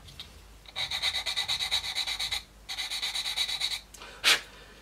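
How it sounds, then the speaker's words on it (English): Sanding stick rubbed with light pressure over a plastic part of a Tamiya 1/35 M4A3E8 Sherman model kit, two sustained bursts of quick, even back-and-forth rasping strokes, close and alone, followed by a short sharp scrape. "just let the sand and stick do the work"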